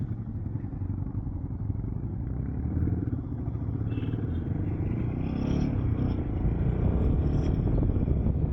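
A Royal Enfield Himalayan 450 motorcycle rides off-road with a continuous close engine rumble and clatter that swells slightly toward the end, with faint scraping from the rough ground.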